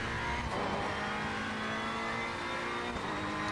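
Modified Alfa Romeo race car with a roll cage in a racing video game, its engine droning steadily and loud with a constant harmonic whine, held at high revs throughout with no voices.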